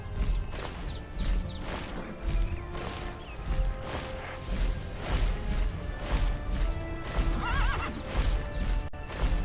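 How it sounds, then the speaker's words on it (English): Winged horse mount in the online game Tera, whinnying and snorting over rhythmic beats and clopping that carry on for about nine seconds, loud and dense with a steady game soundscape behind. "I love the sound of those wings. You like almost feel the muscles of that horse."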